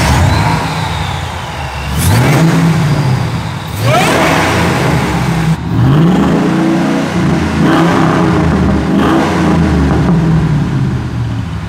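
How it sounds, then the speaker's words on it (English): A Ford SVT Lightning pickup truck engine running and revving, with loud repeated throttle blips and rising whines roughly every two seconds over a steady idle rumble, close by. "So I know what you're thinking, Alex, that thing sounds perfect."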